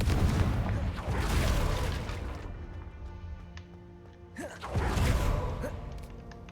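The Confringo fire spell is cast in Hogwarts Legacy, letting off a loud booming blast that rumbles and fades. A second heavy explosion bursts out a few seconds later.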